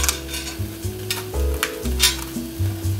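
Roughly cut pieces of food for a simple high-protein recipe are stirred in a hot pan, sizzling steadily up close with scraping stir strokes over a continuous fry.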